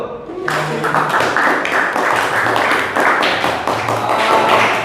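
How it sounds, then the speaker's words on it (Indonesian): Students in a vocational high school classroom give dense, sustained applause, many hands clapping close and loud for several seconds with faint voices underneath. "tepuk tangan dulu"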